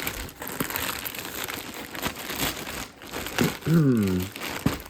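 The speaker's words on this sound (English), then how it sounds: "it came wrapped in this stretcher foil. Let's open it up." A package wrapped in stretch foil is pulled open by hand, giving close, continuous crinkling and crumpling with some tearing, and a voice is heard briefly near the end.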